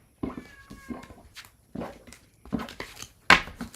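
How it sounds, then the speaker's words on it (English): A cat meows repeatedly at a door, several separate drawn-out cries spaced through the moment, fairly close and clear, with the last one loudest and most strained. "You're going to hear the cat meow at the door until it gives up."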